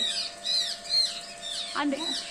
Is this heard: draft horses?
no